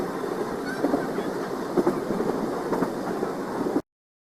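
A train rumbles along on the rail route toward Vasai, a steady close roar with faint rhythmic clicking of wheels over track joints, cutting off abruptly near the end.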